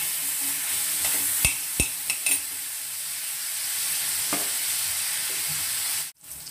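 Salted brinjal (eggplant) pieces fry in a pan with a continuous, close sizzle. A few sharp spatula knocks come early on, and the sound cuts off abruptly near the end, with no talking.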